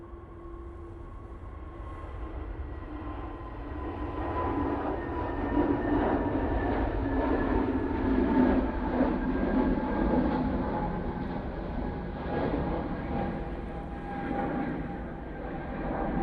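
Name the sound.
airliner on its takeoff roll, flight to Geneva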